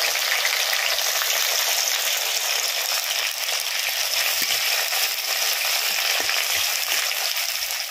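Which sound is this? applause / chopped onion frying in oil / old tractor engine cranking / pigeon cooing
chopped onion frying in oil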